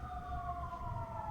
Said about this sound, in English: Well, excuse the sirens,